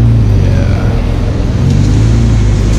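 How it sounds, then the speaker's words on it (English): A BMW 118i M Sport E88 convertible engine and exhaust run loud and close, a steady low rumble with revving and no talk over it. "the difference of the exhaust sounds already"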